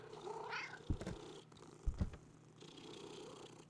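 A heavy cat purrs close up in a soft, rumbling rhythm, with a few louder low thumps and brief rustles mixed in over quiet room noise.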